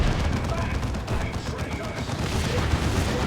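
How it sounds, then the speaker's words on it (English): Monster Cannon fire in a Warhammer 40,000: Dawn of War 2 3v3 battle, heard as a dense, continuous barrage of loud booming gunfire and explosions with no pauses, sitting under faint talk. "The Monster Cannon gets a shot, gets a kill."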